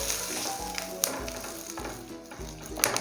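Steady close sizzle of makhana frying in ghee in a pan, with a few light taps and stirring clicks on top of the continuous crackle.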